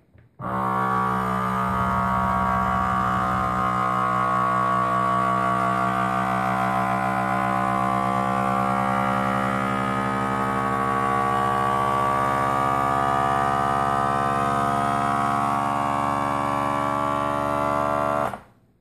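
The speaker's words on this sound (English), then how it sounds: "we're going to hit the vacuum seal, and this is going to suck out all the air that it can" A vacuum sealer pump draws air out of a mason jar holding dehydrated food, a loud steady motor drone that starts abruptly, holds for about eighteen seconds with a slowly shifting whine, then cuts off.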